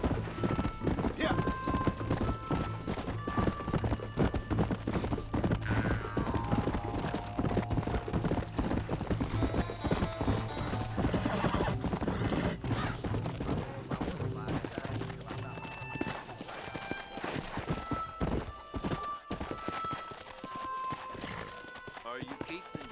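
Horses galloping in a race in the Red Dead Redemption video game, rapid continuous hoofbeats with occasional whinnies, loud and close under ongoing talk and a musical score.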